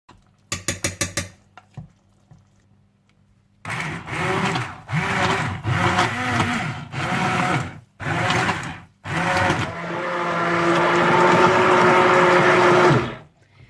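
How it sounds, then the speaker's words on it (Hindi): A hand blender whirs blending pumpkin soup in short bursts, stopping and starting several times, then runs in one longer steady stretch, close and loud, with no talking. "तो आप इसे हैंड ब्लेंडर या ब्लेंडर के साथ अच्छी तरह से ब्लेंड कर लीजिएगा"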